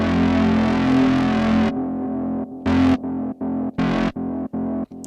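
Buzzy acid techno synth run through delay: a sustained distorted tone breaks off, then echoing bursts repeat in a choppy, rhythmic pattern of bright pulses and quieter repeats.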